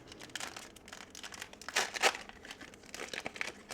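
A baseball card pack wrapper being torn open, a quiet run of crinkling and ripping foil with a couple of sharper tearing bursts in the middle, close by and with no talking.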